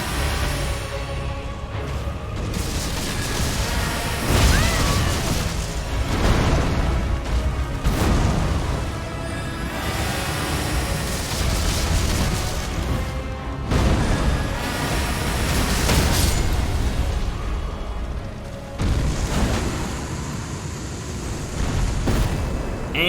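Faith weapon bubbles burst repeatedly in Elden Ring, loud rolling explosions and pops layered over a constant rumbling roar, with several heavy booming peaks across the stretch.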